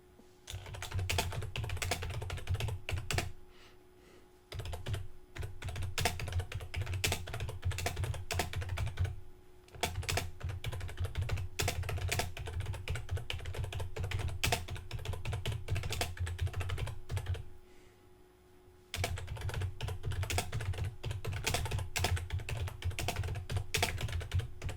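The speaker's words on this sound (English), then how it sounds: "So I'm going to come down and type in my next text block." Computer keyboard typed on steadily while building a WordPress website, a close dense clatter of keystrokes in long runs with a few brief pauses, over a faint background hum.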